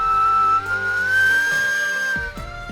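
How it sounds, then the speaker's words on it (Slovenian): Reconstructed Divje babe bone flute, a replica of the Neanderthal-era flute found in 1995 in the Divje babe cave in Slovenia, playing one sustained, slightly wavering whistle-like tone that slides gently upward, followed by short breathy notes. "To je rekonstrukcija najstarejšega glasbila na svetu, ki je bil najden leta 1995 v jami Divje babe pod Šebrelsko planoto."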